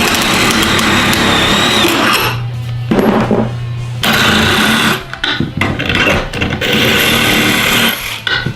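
A drill-driven DPT wrench spins at high speed, putting out a loud, continuous motor whine with gear and ratchet rattle that cuts off and restarts a few times and runs without talk.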